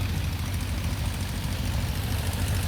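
A Continental 220 radial aircraft engine idles with a low, rough, knocking throb that stays steady and fairly close.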